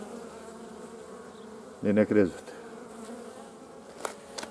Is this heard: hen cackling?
no